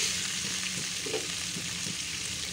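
Kebabs are stirred into a mutton kofta masala in a pan, producing a soft, steady sizzle with faint spoon strokes heard on their own, with no voices.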